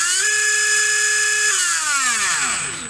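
A HobbyWing V10 G4R 17.5T brushless motor whines at high RPM, a steady piercing tone that holds, then drops and sweeps downward as the motor spins down, loud and close with no talking.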